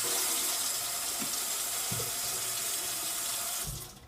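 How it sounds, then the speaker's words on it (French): A kitchen sink tap runs steadily through a VIV'EAU faucet water filter, a loud, continuous hiss and splash with small knocks before the flow is shut off near the end. "Ouvrez une première fois l'eau."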